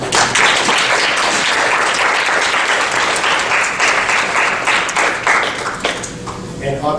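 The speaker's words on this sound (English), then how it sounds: "So please, round of applause." A crowd applauds, a dense wash of many hands clapping together that carries on for several seconds before thinning out at the end.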